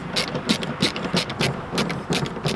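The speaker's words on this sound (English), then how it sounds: "Next, remove these two T25 screws." A ratchet removing two T25 screws: a quick, regular series of close, crisp ratcheting clicks in short back-and-forth strokes, alone with no voices.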